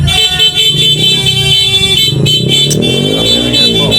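Car horns honk in loud, sustained overlapping blasts for New Year's celebrations in the Philippines, with engine noise and some street commotion mixed in throughout.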